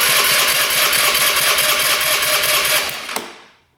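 A small scooter engine runs with the throttle held open, a loud, buzzing rattle close by that holds steady for about three seconds, then cuts out with a final knock and fades away.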